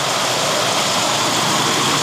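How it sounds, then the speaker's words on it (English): A Nissan Xterra 3.3 engine idles steadily with a quiet exhaust after a new passenger-side exhaust manifold, a constant broad rumble and hiss that holds unchanged throughout, close and loud. "my exhaust is quiet"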